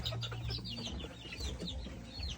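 Chickens and young chicks clucking and peeping at a family home in rural Nan, Thailand, with overlapping high chirps and low clucks close by, continuous and fairly faint, with no talking.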